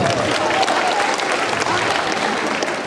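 Big round of applause for a visiting school at a Polish community event, steady dense clapping from a large crowd filling the whole stretch at close range.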